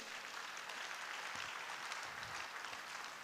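A church congregation clapping in praise during a French-language worship service, a dense, steady wash of applause from many hands at a moderate distance, with no talk over it.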